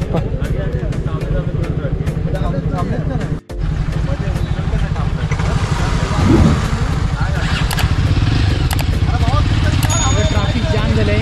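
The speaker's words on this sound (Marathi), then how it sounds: "ट्रॅफिक जाम झालं आहे इकडे." Traffic jam on a rural road near Mandangad, Dapoli, with cars, motorcycles and an LPG truck; steady idling engines and passing vehicles fill the scene continuously, loud and close, with a brief dropout midway.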